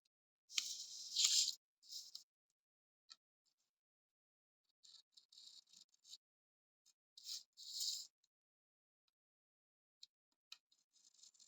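A cutter knife slices through paper for a 3D candle drawing, giving quiet, scratchy strokes in short separate bursts with silent gaps between them and no talking.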